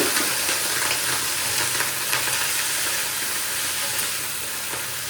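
Bathua greens frying in a little oil, a dense continuous hiss and crackle close by, steady and fairly loud for the whole stretch with a hint of stirring, no voices.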